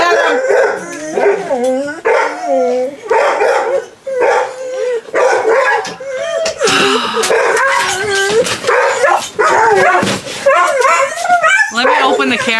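Several dogs bark and yip in rapid, overlapping bursts close by, with a few howling notes, continuing throughout while a person talks over them.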